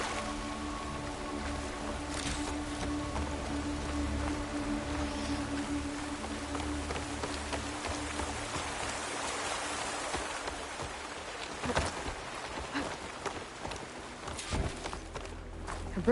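Steady rainfall in the video game Horizon Forbidden West, a constant hiss with low game ambience and occasional footstep-like thuds, with no talk.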